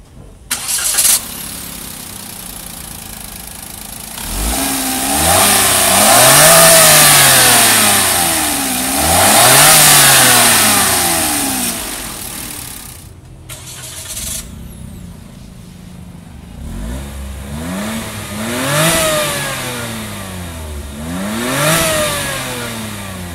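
Toyota Raize GR Sport SUV with a 1000cc 1KR-VET turbocharged engine starts, then revs repeatedly in loud rising and falling sweeps, settling between bursts with several more shorter revs near the end; no talking.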